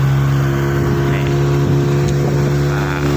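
An aluminium boat's motor drones loud and steady while cruising along Khlong Bang Chalong near Suvarnabhumi Airport in the evening, a constant close engine hum with a strong low tone and faint wind and water wash.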